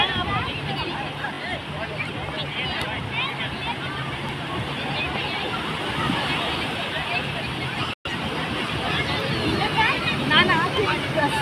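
Steady surf washes onto Bekal beach in Kerala during a beach festival, blended with a dense crowd babble and nearby voices talking throughout, a continuous wash with one brief dropout.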